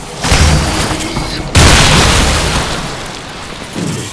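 Shotgun blasts in the video game Shadow Warrior 2 land as two loud, booming bursts with long noisy decays, layered with dense game sound effects.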